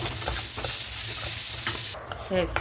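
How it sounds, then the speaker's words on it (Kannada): Red boiled rice stirred and dry-roasted in a pan for a millet powder recipe, with steady scraping and rustling of grains against the metal and a soft continuous sizzle, close and alone. "ಇವಾಗ ಕೆಂಪಕ್ಕಿ ಇದ್ದೀವಿ ಬಾಯ್ಲ್ಡ್ ರೈಸ್ ಅಂತಾರಲ್ಲ ಅದಿದು ಚೆಂದ ಉರಿಯೋಣ"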